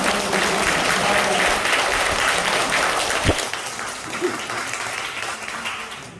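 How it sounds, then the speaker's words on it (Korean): An audience at a lecture on the Korean peninsula and unification applauds to welcome a speaker, with a loud, dense round of clapping that thins toward the end as faint voices and a thump come through. "우리 마순배 박사님을 큰 박수로 환영하면서"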